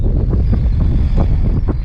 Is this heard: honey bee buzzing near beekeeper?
no